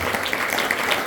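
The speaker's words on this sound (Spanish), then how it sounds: "si le van a dar las palmas, dérselas bien a Jesús" A church congregation claps steadily together, a dense wash of many hands at fairly loud level with no break.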